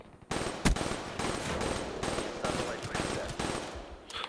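Automatic gunfire in the video game Black Ops 3 sounds out as several quick bursts of rapid shots at a moderate level, with short gaps between the volleys.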